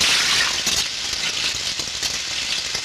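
Rushing, gushing water, a broad continuous hiss with small rattling bursts, loud and close throughout, with no voices.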